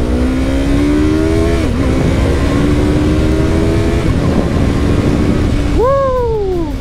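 A Yamaha YZF-R3 motorcycle revs hard under acceleration, its engine note climbing steadily, then dipping briefly at quick clutchless upshifts before climbing again, loud and close throughout.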